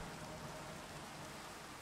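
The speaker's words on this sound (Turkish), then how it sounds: "yağmur yağıyormuş" Rain falling in Minecraft, a steady faint hiss of dense raindrops with no pauses, heard alone over its whole short length.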